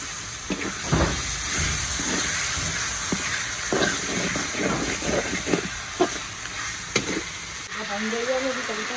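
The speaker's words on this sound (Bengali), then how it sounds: "তো এখন মশলা কষানোর মধ্যে শুটকি গুলা দিতেছে" Slender dried fish sizzling in a spice masala being cooked down, a continuous hissing fry with scattered stirring clatters and short knocks, under faint background noise.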